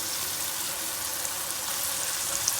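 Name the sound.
chickpea masala frying in oil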